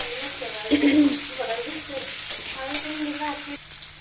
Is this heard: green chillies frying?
yes